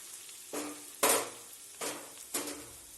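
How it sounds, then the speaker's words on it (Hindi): Stirring scrapes and bursts of sizzling as crushed ginger fries in hot ghee with cumin, four distinct strokes at a steady pace, close and fairly quiet, no talking. "घी हमने गरम कर लिया है, जीरा हमने इसमें डाल दिया है। अब इसमें हम अदरक डाल देंगे कुटा हुआ।"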